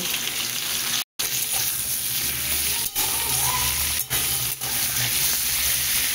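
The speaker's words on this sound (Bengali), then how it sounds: "পটল আলুটা বেশ ভাজা হয়ে এসেছে। এবার আমি এর মধ্যে যেই একটা গোটা টমেটো কেটে রেখেছিলাম, এই টমেটোটাকে দিয়ে দেব।" Potato and pointed gourd frying in a pan, a loud steady sizzle with a few brief gaps and faint stirring as a cut tomato goes in.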